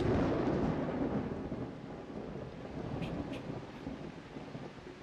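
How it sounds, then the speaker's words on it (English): Rain and rolling thunder in the video game Blood Bowl 2, a loud low rumble opening the passage and fading into a steady rain hiss with gusts of wind, and no talking. "It would be nice if it wasn't raining"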